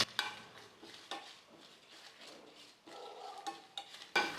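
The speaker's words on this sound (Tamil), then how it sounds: "கூடவே காரத்துக்கு 4 வரமிளகாய் சேர்த்துட்டு நல்லா வறுத்து எடுத்துக்கலாம்." A spoon stirs and scrapes sesame seeds and four dried red chillies in a dry pan with a faint, light crackle of roasting, quiet and close, in uneven strokes.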